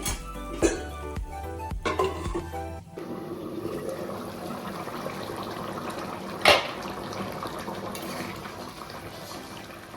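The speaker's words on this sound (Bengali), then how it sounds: "এখন আমি জল দিয়ে দিচ্ছি" Water pours into a pan of cauliflower and prawn curry, giving a steady liquid rush and sizzle that continues over a kitchen background, with a few clatters near the start and a brief knock midway.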